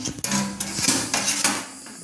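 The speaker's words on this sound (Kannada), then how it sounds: "ಇವಾಗ ಕುಕ್ಕರ್ ಇಟ್ಕೊತಿದ್ದೀನಿ" A metal pressure cooker, 2 litres, set down on a stove with a clank, followed by a few ringing scrapes and knocks of metal on metal, close and fairly loud.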